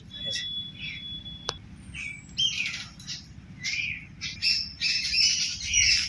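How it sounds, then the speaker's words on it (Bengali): Birds chirp and call near a quiet jungle path, several near and far voices trading bright tweets and squawky calls over a low steady rumble, with a sharp click midway. "পাখিরা কিরম কলরব"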